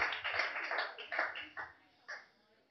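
Audience clapping at a wine cellar comedy show, a scattered patter of hands that thins out and fades, with a few last isolated claps and a voice speaking over it.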